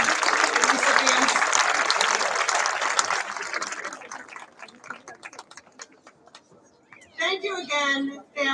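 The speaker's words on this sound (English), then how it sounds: "Let's give another round of applause to our" An audience at an 8th-grade moving-up ceremony applauds award recipients, a dense round of clapping that thins into scattered claps before a voice speaks over the tail end.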